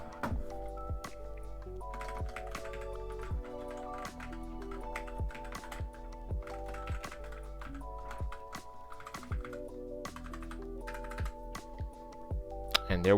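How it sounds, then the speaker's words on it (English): Keystrokes on a computer keyboard set away from a FiFine K658 USB dynamic microphone, a continuous run of clicky taps lasting about thirteen seconds, a little softer and more distant, with background music and no talking. "Now this is with the keyboard away from the mic."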